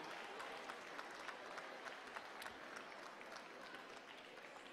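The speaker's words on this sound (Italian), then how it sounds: "Facciamo un applauso enorme." Audience clapping at an anniversary celebration, a steady, dense patter of applause held at an even level throughout.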